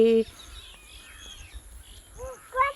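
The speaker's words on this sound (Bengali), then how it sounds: "এই দেখো প্রচুর পরিমাণে শালিক এসেছে" Scattered chattering calls of a common myna flock, a short burst of harsh chirps near the end, over faint background noise and a brief steady tone at the start, in open village fields.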